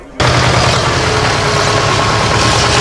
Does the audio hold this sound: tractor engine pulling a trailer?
yes